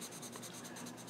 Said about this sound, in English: I just thought I'd show you how I do my watercolor pencils.